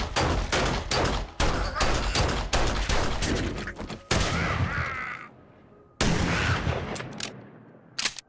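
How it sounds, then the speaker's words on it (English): Enemy gunfire in the survival video game 7 Days to Die: a rapid run of loud, close shots in a steady rhythm, broken by a longer ringing blast and a pause, then more shots, with a voice briefly heard. "She is actually shooting at me."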